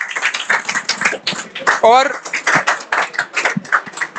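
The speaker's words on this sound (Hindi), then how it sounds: "तालियों के साथ स्वागत करो" An audience claps in welcome at a student prize distribution ceremony, a brief scatter of hand claps heard under someone speaking loudly over a microphone.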